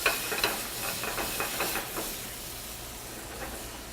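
Butter sizzling in a hot pan during cooking, a steady hissing fry with a few crackling pops early on that gradually settles into a soft, even sizzle.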